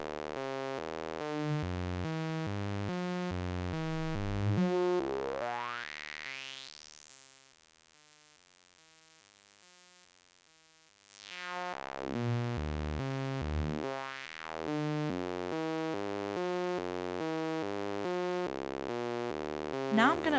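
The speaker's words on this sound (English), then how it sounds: "Let's try the high-pass filter." A Dreadbox Whiteline Eurorack synthesizer plays a repeating rhythmic tonal sequence through a high-pass filter, with a long rising and falling filter sweep in the middle that thins the sound before the pattern returns.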